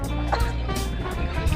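A bird snagged on a fishing line squawks and flaps close by in a few short, harsh bursts, with little else around it.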